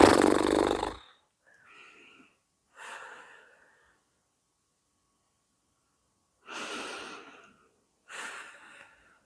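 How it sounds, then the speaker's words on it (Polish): Slow, deep breaths during a yoga twist come close and alone: a strong opening exhale, then several softer inhales and exhales separated by quiet pauses. "Duży oddech na prawą stronę płuc"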